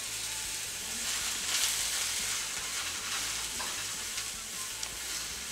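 Mushrooms fry and brown in a hot pan, giving a steady close sizzle with faint crackles throughout and occasional light utensil stirs, no voices.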